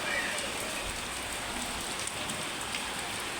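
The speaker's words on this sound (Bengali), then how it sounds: "বৃষ্টি করতেছে, বৃষ্টি।" Steady rain pours down close by, a dense, even hiss of drops striking surfaces that runs unbroken from start to finish with no voices over it.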